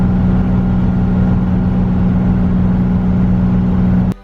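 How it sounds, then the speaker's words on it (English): A bus engine labours up a steep hill in a loud, steady drone with a sustained droning hum, then cuts off abruptly at the end. "Going up steep hills were a little bit of a challenge for the bus."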